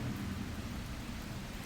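Steady rain with low rumbling thunder outside a barbecue shelter, a dense continuous wash of drops and deep roll filling the whole stretch at moderate level, no voices.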